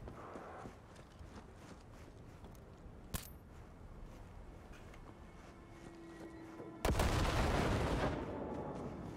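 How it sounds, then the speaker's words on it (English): In the Cyberpunk video game, a sudden loud explosion erupts near the end, a dense roaring blast that lingers for a couple of seconds after quieter ambient game noise with a sharp crack earlier. "Explosions."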